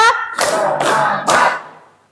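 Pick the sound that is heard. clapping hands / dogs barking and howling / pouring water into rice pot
clapping hands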